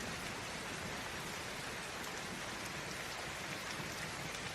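Steady rain falls with an even, continuous hiss of drops that stays constant throughout and is heard alone without any talking.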